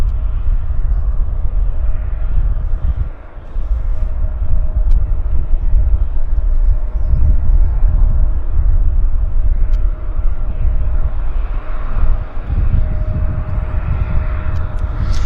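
An airliner arriving at Vancouver's YVR airport on flight 2482 from Minneapolis gives off a steady, loud, low jet rumble that holds throughout with slight dips, heard without any voices.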